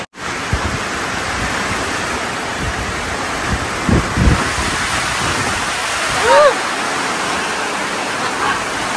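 Heavy storm rain pours in a dense, steady roar through a typhoon, with a few brief voices cutting in over the downpour.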